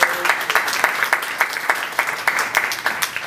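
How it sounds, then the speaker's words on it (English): An audience at a political campaign training event gives a round of applause, a dense, steady burst of many hands clapping that carries straight through the moment. "please give her a round of applause"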